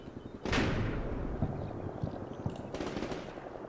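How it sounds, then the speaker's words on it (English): In a combat video game set in the Black Sea theatre, a heavy burst of automatic gunfire erupts, then continues as a rolling series of thuds and rattling shots at moderate distance. "Keep shooting. Maintain fire on that target."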